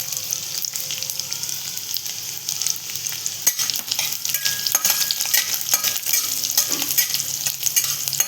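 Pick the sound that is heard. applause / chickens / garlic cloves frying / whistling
garlic cloves frying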